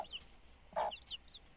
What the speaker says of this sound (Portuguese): Os pintinhos estão todos aqui.